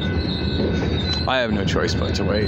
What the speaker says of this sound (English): this train goes through here real slowly